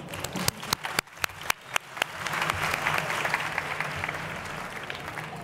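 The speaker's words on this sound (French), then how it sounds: "Je vous remercie simplement d'applaudir et d'encourager la salle." Audience at a Paris e-marketing conference, beginning with a few sharp separate claps that grow into steady, moderately loud applause from a hall full of people, with no talk.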